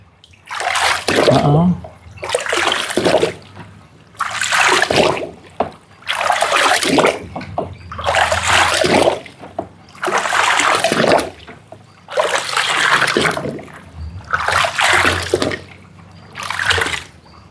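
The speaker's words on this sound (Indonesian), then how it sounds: "Diaduk searah jarum jam atau kita aduk pakai ini tadi. Diaduk semua, sahabatku, biar rata." Water with flowers and salt is stirred clockwise in a container for a flower-bath ritual for a vehicle. About nine loud, rhythmic sloshing swirls sound up close, separated by short pauses.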